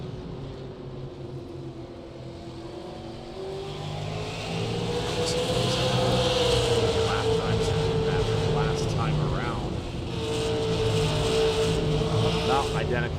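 Stock race car engine from a live short-track race at New Smyrna, droning steadily and rising in pitch as the car runs down the back straightaway, with a commentator talking over it throughout.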